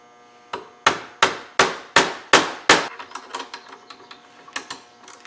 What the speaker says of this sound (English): we'll knock this pin out, get that out of the way